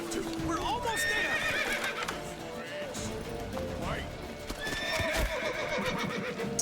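A horse whinnies loudly several times in the video game The Witcher 3: Wild Hunt, its high wavering cries rising over steady hoofbeats and background noise.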